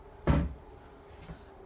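A bathroom cabinet door in a log cabin park model home opens or closes with one sharp knock, followed by a fainter second tap about a second later.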